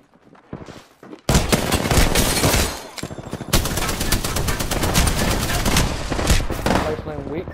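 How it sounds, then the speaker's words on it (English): Loud, close bursts of rapid automatic gunfire from the battle royale game Apex Legends, a rattling stream of shots after a few isolated cracks, with voices heard at times. "Getting shot at."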